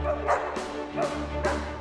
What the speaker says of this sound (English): A canine choir was howling at the moon